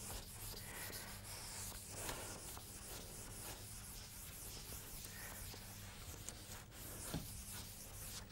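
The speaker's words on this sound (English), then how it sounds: "Let me rub this so that I can extend this diagram to the right." Chalk is rubbed off a blackboard during a mathematics lecture: soft, repeated scrubbing strokes, faint and steady throughout, with no speech.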